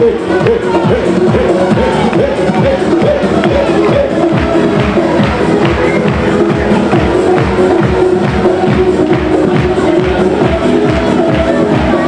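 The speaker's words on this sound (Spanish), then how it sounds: "esas palmas, palmas, palmas" A large carnival crowd claps steadily in rhythmic unison, a continuous loud patter of hands over background chatter and cheering.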